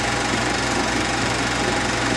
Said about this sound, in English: All the power you need for real three-plow tractor performance makes the WD-45 the most modern tractor on the farm today.